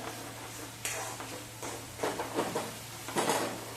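Masala paste sautéed in oil in a pan until the oil separates, a soft steady sizzle with occasional louder scraping and stirring clatter, close by, over a low electrical hum.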